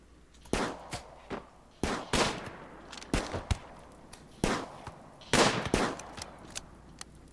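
Gunfire in Rimworld during a raid inside the base, a series of sharp, fairly loud shots in irregular bursts and singles, each with a short decaying tail, with no talking.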